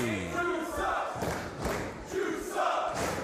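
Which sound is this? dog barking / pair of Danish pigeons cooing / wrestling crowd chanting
wrestling crowd chanting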